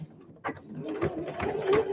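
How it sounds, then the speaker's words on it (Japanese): Sewing machine stitching the seam of a convenience-store eco bag, a soft rapid whirring hum in short bursts with faint clicks, heard up close and fairly quiet. "押さえがちょっと曲がってきちゃうんですけど、しっかり指で押さえながらずれないように縫っていきます"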